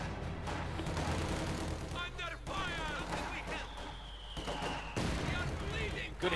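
Battle sounds from the real-time strategy game Company of Heroes 2 mix rattling gunfire, booming mortar impacts and shouted unit callouts into a dense, continuous din, with a commentator talking over it.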